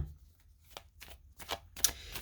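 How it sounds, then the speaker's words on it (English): Oracle cards are slid and pushed aside on a table in a few soft, papery rustles and taps spread across two seconds, quiet and close, with no voices. "Let me move my cards out of the way."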